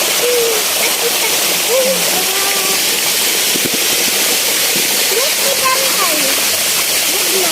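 Water flowing steadily at a natural swimming spot by a waterfall, a continuous rushing wash with birds chirping over it.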